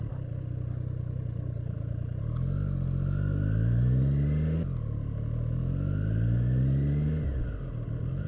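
A Triumph Street Triple motorcycle engine with a rough note revs up twice in rising sweeps, each climb cut off sharply before building again, loud and close with a harsh, gravelly edge.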